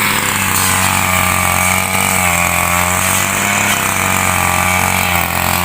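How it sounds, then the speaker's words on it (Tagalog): A grass cutter engine runs loud and close during land preparation on a small farm, a constant high buzzing drone whose pitch wavers slightly as it works. "medyo mabagal pero malaking tulong yung grass cutter na regalo sa kanya ng kanyang pinsan"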